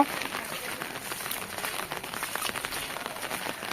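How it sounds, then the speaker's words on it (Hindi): Steady, dense hiss of heavy rain pouring down on a village, continuous and fairly loud throughout with no clear pauses. "झड़ी वर्षा रे मध्य वर्षा रे"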